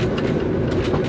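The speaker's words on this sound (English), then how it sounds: "Let the train pull up here to a complete stop." A tour train on the Gold Dredge 8 line in Fairbanks, Alaska rolls in to a stop with a loud, steady rumble and rhythmic wheel clatter up close.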